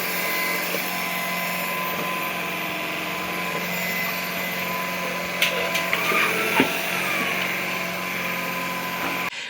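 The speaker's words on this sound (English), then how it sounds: "we decided to purchase this Shark PowerPro Cordless Stick Vacuum Cleaner" A Shark PowerPro cordless stick vacuum cleaner runs steadily and close by, its even motor whine holding for the whole stretch, with a few brief knocks and shifts in pitch as it is moved around.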